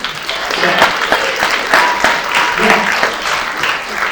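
Steady comedy-show audience applause, a dense patter of many hands clapping continuously for several seconds.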